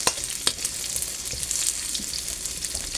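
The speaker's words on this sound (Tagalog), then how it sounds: "Lutuin maigi ang sibuyas." Onions frying in a pan for ginataang gulay, a loud, dense sizzle close by, crackling continuously with a few sharper pops and stirring scrapes.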